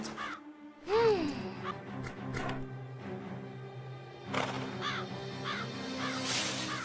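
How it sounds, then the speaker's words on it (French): A crow caws in a cartoon countryside setting near a nervous horse, the harsh calls arriving in a few distinct bursts over steady background ambience and music. "Va-t'en, sale corbeau!"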